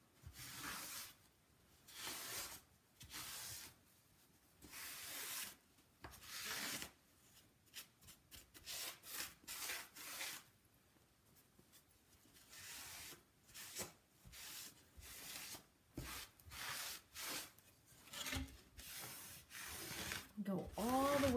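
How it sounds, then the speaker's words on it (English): A microfiber cloth wiping over a painted wooden inlay tray, making repeated soft rubbing and swishing strokes in an irregular rhythm, close and fairly quiet. "now get that microfiber cloth and wipe away"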